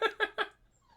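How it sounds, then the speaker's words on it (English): A large puppy named Zoe whines in her cage: three quick, faint, high whimpers in a row, slightly distant, then quiet. "if you guys hear a puppy whining in the background"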